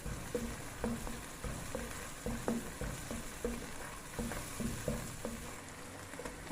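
Vegetables in a pan being stirred with black pepper, white pepper and salt, giving soft rhythmic scraping strokes and light clinks over a quiet sizzle, fairly faint and close.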